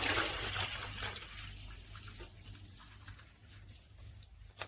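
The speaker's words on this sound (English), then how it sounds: "Just pour it all in." Sunny Boy salak syrup and drinking water poured into a container for mangosteen wine, a splashing, gurgling pour loudest at the start and tapering off, close and alone with no talking.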